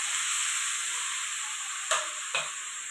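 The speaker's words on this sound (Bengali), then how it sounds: "এবার ভালো করে কিন্তু গাজরটাকে ভাজা ভাজা করতে হবে।" Grated carrots fry in hot ghee in a kadai for carrot halwa, making a close, even, hissing sizzle, with two short spatula scrapes near the end.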